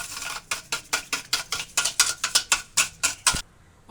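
Spices and chaat masala being stirred into dahi bhalla with a spoon, a steady run of about fifteen quick, close scraping strokes in an even rhythm, then a sudden stop.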